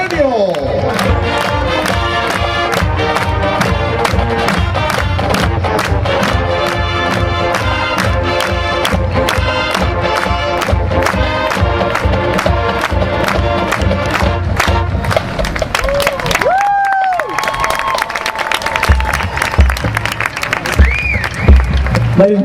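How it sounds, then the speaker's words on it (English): A stadium crowd at a county marching band preview applauds and cheers for the New Philadelphia High School Marching Band, a loud, steady wash of clapping with shouts and a brief whistle-like tone near the end. "Give them a nice round of applause, ladies and gentlemen."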